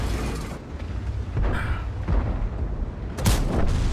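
Cannon shots from a T-34-3 tank in World of Tanks on the Glacier map: a few heavy booms spaced apart, with the sharpest blast near the end over a rumbling battle background.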